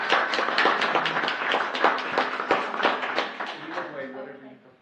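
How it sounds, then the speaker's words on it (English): Scattered clapping at a city council meeting honoring the police chief, a modest crowd applauding in the room before tapering off at the end. "Let's give our Chief a round of applause."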